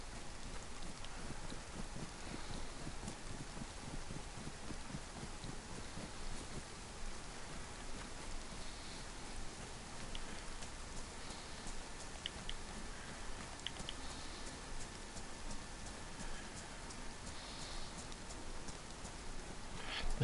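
Steady rain falls on a beach in the survival game DayZ, a dense, even hiss that holds at a constant level for the whole stretch, with no voices over it.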